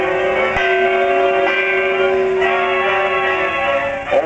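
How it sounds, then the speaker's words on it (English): A fog bell on a rock-bound coast tolls in a cartoon, giving a sustained ringing tone with a few fresh strikes that decay over a few seconds, heard alone and fairly loud. "'Tis a fog bell on a rock-bound coast"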